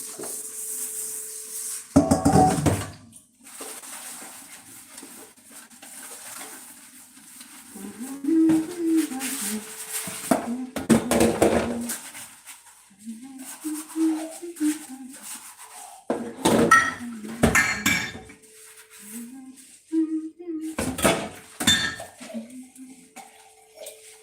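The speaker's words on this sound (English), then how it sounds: "I'm planning to use this bowl for my pancakes, so I need to wash it." A bowl is washed for pancakes, with clinking dishes and rattling cutlery over running water in a kitchen, and a voice talking in between.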